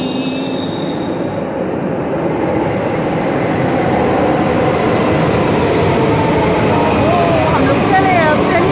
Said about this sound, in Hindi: मेट्रो आ गई, सही में आ गई